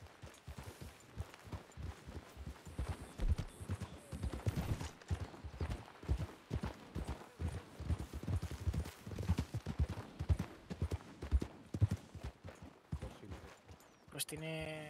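Horse hooves clop steadily at the stables in a roleplay video game set on a ranch, a continuous rhythmic clatter under people talking.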